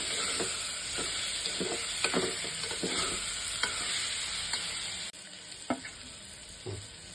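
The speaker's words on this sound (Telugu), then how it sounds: "మటన్ కూడా ఒక 2 to 3 మినిట్స్ ఈ ఆయిల్లో వేయించుకుందామండి, నూనె పైకి తేలే వరకు" Marinated mutton sizzles in hot oil with a constant loud crackle. Repeated scraping strokes of a spatula stir the pan, and the sizzle drops a little partway through before continuing.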